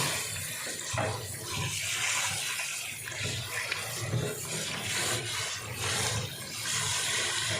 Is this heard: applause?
no